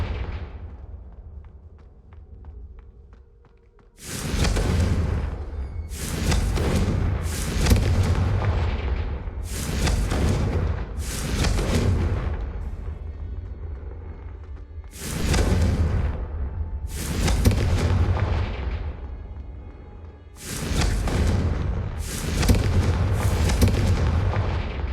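Repeated Confringo spell explosions in the Hogwarts Legacy video game go off as a series of loud, booming blasts in quick succession, each with a sharp onset and rumbling decay, after a brief quieter lead-in.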